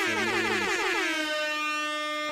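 An air horn sound effect blares loud and close, its brassy tone sweeping in pitch before settling into a held blast, with a second hit overlapping near the end.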